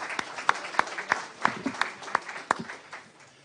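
Sparse, scattered claps from a small audience at a French rural-youth forum on Europe, a handful of distinct hand claps spaced irregularly and fading out over a few seconds, fairly quiet with no talk over them.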